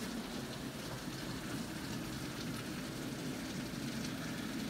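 Heavy rain falling in a rain forest, a dense, steady hiss and patter that stays even and fairly soft throughout, with no voices.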